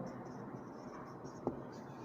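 A teacher writes on a board during a chemistry class, heard as faint scratchy strokes in short bursts with one brief tap, set against a quiet room hum.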